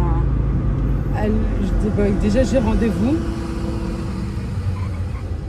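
Cars pass outside an open window on a street, a steady roar of traffic rolling by under someone speaking French close by, a brief tonal whine rising and falling midway.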